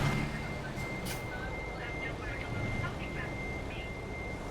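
A truck's backup alarm beeps repeatedly in American Truck Simulator, an evenly spaced reversing tone under a low engine hum and quiet game ambience.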